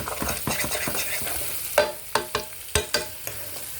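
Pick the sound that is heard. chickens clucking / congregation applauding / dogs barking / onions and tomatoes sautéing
onions and tomatoes sautéing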